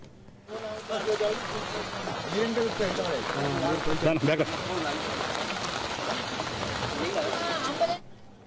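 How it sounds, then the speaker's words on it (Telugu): Heavy monsoon rain pours during floods in Medak district, Telangana, a dense steady hiss running through nearly the whole stretch, with a voice speaking over the downpour. "తెలంగాణలోని పలు ప్రాంతాల్లోనూ అత్యంత భారీ వర్షాలు కురిశాయి"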